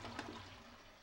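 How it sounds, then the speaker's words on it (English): A Toto toilet flushing, a faint, brief rush of water that swells slightly and then settles into a quieter gurgle. "I'm going to flush that again."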